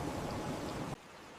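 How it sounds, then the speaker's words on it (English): A tropical storm over a Pacific island pours a dense, steady roar of heavy rain and wind, then drops abruptly to a quieter wash partway through. "The tropical storm is passing."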